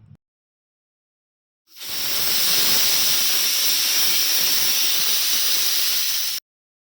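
A pressure cooker cooking chicken dum biryani lets out a loud, close, continuous hiss of escaping steam with a high whistling edge, lasting several seconds and cutting off abruptly.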